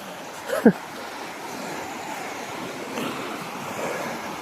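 A river near Bedham Falls in Malinao rushes with a steady broadband wash. A brief thump sounds early on, and the flow carries on evenly to the end.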